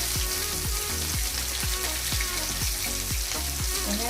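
Black pepper frying in oil in a pan for an aubergine gravy, a steady dense sizzle throughout with faint recurring clicks or stirring taps, with no voices.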